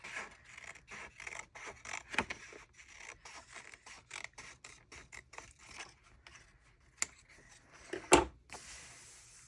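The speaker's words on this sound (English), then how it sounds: "Nice and easy to just use the scissors." Scissors snip through paper while a creative journal is set up, giving a quiet, steady run of short cuts with one sharper, louder snip near the end.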